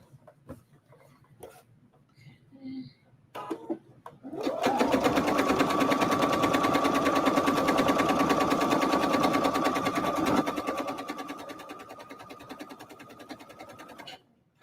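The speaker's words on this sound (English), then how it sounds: "I usually sew with denim thread when I'm sewing denim" A sewing machine stitches denim jeans being upcycled into a jacket: after a few soft handling clicks, a close, steady mechanical hum with rapid needle rhythm runs for about ten seconds, slowing slightly before it stops.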